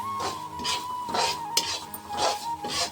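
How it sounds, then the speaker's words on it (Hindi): Semolina being dry-roasted and stirred in a pan, a spoon scraping the metal in repeated rhythmic strokes, close and clear, with a steady faint tone running underneath and no talking. "इसमें हम डाल लेंगे ये सूजी, ऐसे अच्छे से भून लेंगे।"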